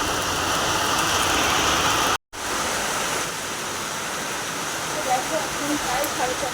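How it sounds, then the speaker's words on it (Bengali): Heavy rain falls as a dense, steady hiss that fills the whole span, dropping out for a brief moment and then resuming just as strong, with no clear talk over it. "এদিকে প্রচুর বৃষ্টি হচ্ছে, প্রচুর খুব বৃষ্টি হচ্ছে।"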